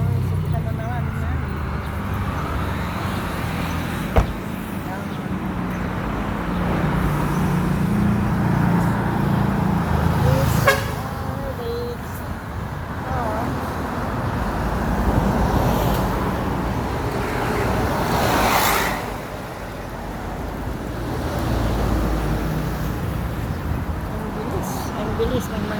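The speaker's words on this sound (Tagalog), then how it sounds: "Ang bilis ng mga sasakyan." Road traffic passes quickly on a Sunday street in La Union, Philippines, a continuous low rumble of cars with swells as vehicles go by and a brief horn-like tone, with people talking over it.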